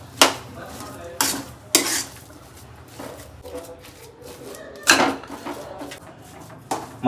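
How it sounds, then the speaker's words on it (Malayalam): A ladle mashing boiled potato in a pan, several sharp scraping knocks against the metal at irregular intervals over a low background, close by, with a voice talking in between. "തവി കൊണ്ട് ഇങ്ങനെ ഒന്ന് പൊടിച്ചു കൊടുക്കാം കേട്ടോ."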